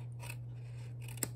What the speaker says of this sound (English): with my paper snips, I'm just going to trim off